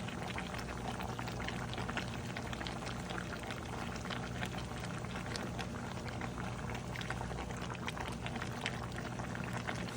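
Calalou (okra) sauce bubbling in a pot, a dense, even simmering crackle and hiss that carries on steadily without a break for ten seconds.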